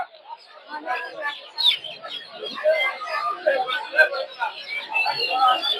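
Chickens, roosters and chicks cluck and chirp at a rural poultry market for hens, ducks and quail in Putia, Narsingdi, a scattered busy chatter under people talking.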